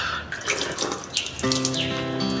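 Tap water runs steadily into a sink as a dried skincare face mask is washed off, a close, even rush that gives way to music partway through.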